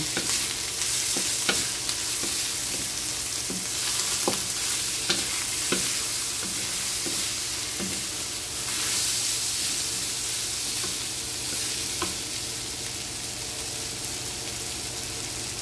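Garlic sautéing in a pan for pinakbet, a continuous close sizzle and hiss with repeated scraping stirs at an irregular rhythm, no talking.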